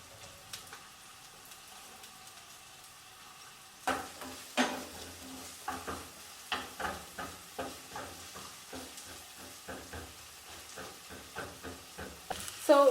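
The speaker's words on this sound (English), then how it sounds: "we put our onions into a pan with hot oil, about 2 tablespoons of oil" Onions with grated garlic frying in about two tablespoons of hot oil in a pan, a soft steady sizzle broken by a run of regular scraping stirs, close and moderately loud, with no talking.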